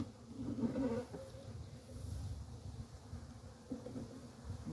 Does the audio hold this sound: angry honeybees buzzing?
yes